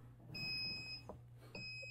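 A heat press timer beeps as it counts down while a shirt is being pressed, giving two thin high-pitched electronic tones, a longer one and then a second after a short gap, over a low steady hum.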